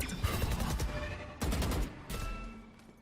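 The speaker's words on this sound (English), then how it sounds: "Gunfire ups on the opposite side." Gunfire from a Valorant esports match on the Breeze map, with rapid bursts of shots in three clustered volleys, loud and close in the game mix, with a caster talking over them.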